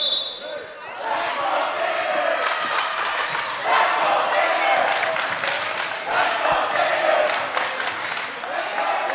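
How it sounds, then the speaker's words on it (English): A home crowd at a varsity girls basketball game cheers and shouts steadily throughout, a loud, dense wash of voices with brief sneaker squeaks and bounces beneath, swelling slightly in the second half. "And the McMahon crowd, very animated. They are into this one as their team is back into this game."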